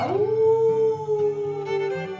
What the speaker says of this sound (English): Suddenly, someone howled.